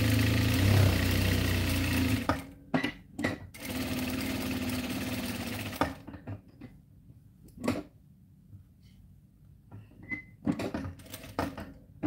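A Janome 6700 Professional domestic sewing machine stitches in a steady, loud whirring run for about two seconds, then in a longer run that ends abruptly, with clicks and handling noises in the quiet gaps between.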